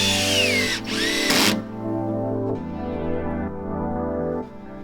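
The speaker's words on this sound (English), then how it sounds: "we screwed in blocks between the slats so that they could move and flex if needed" A power drill drives screws through blocks into wooden 2x3s. The motor whines loudly up and down close by, then settles into a steady, lower grinding hum that cuts off near the end.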